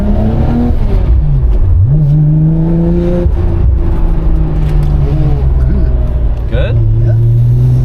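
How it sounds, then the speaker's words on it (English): A Nissan car with a freshly rebuilt differential is driven on a test drive, its engine loud and close, rising and falling through revs and gear changes under a constant road roar. "we're gonna take it for a test drive, see if it's making any weird noises"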